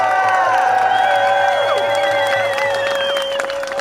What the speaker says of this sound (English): Can we get another round of applause for Stacey Abrams?